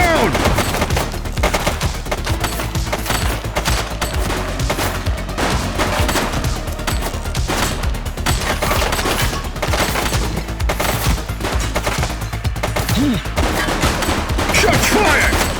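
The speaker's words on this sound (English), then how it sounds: "Shots fired!" Dense, continuous gunfire from a police shooter video game, The Precinct: rapid overlapping shots and automatic bursts crackle nonstop at close range for the whole stretch, with no pause between volleys.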